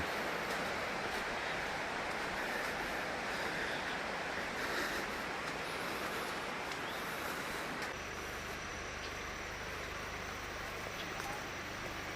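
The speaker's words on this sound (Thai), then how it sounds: "ระหว่างทางที่เฮาย่างนี่ก็จะได้ยินเสียงน้ำตก ซึ่งเป็นน้ำที่ตกลงมาจากตาดสะแนน" Tat Sanen waterfall heard from a walking trail: a steady, dense rush of falling water that fills the whole stretch at an even level, with no voices over it.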